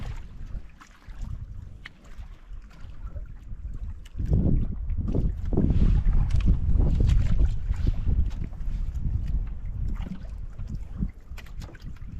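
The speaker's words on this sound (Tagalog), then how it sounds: "grabe talaga yung hangin dito mga idol oh. lakas talaga ng amihan" Strong monsoon wind buffets a fishing boat at sea, a dense low roar of gusts and microphone wind noise that swells loudly midway and stays steady to the end, with no voices.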